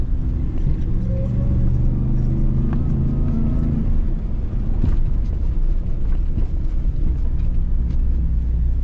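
A Ram TRX pickup truck engine rumbles steadily as it drives off-road over rough ground in four-wheel drive, struggling for traction, with wind buffeting and occasional knocks and rattles throughout.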